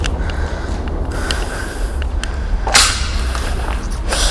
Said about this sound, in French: Je viens de marcher sur une planche.